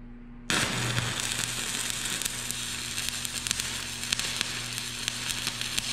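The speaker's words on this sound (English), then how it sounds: "So, we're gonna weld our first pass here." A 7018 stick rod laying a horizontal first pass in arc welding gives a steady, close crackling sizzle that starts abruptly and runs on without a break, with a low electrical hum underneath.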